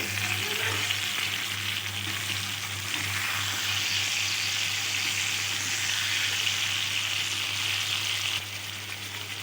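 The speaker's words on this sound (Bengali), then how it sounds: "এবার আমি হালকাভাবে বড়াগুলো উল্টিয়ে দেব।" Mung dal and ridge gourd fritters sizzle steadily in a pan as they are turned over, a continuous, fairly soft crackling frying hiss with a low hum beneath and no talking.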